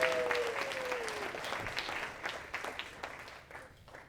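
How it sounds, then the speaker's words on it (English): Audience applause fills the hall at a Jamaican awards ceremony, a dense steady patter of many hands clapping that gradually thins and fades over a few seconds. "Can we give them a big round of applause?"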